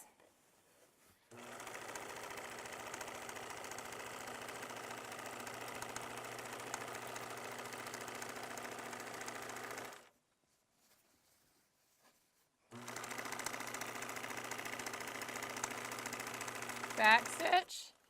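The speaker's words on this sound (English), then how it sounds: "Now when I get to the end, I'm just going to pivot and sew across" A sewing machine stitches across the end of a pillowcase in two steady, close runs of whirring, separated by a pause of near silence.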